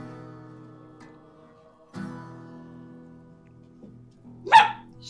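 A single dog barks once, sharp and fairly close, near the end of an otherwise quiet indoor stretch with faint background tones.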